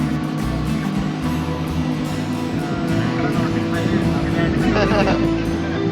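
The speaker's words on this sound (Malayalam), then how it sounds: "ഒരു ബോട്ട് പോകുന്നു" A steady low engine drone with churning water, a motorboat heading out to sea running close by, continuous and fairly loud throughout.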